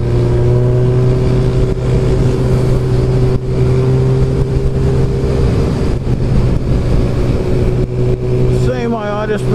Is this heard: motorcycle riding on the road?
yes